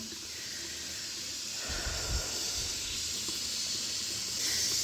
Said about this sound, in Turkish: Ciğer kavuruyorum